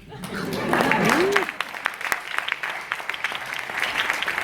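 An audience at the Monte Carlo television festival applauds, clapping building then thinning into scattered claps, with a voice speaking over the start.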